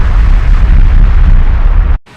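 Loud movie explosion from an action film, a dense rumbling blast filling the whole clip before cutting off abruptly near the end.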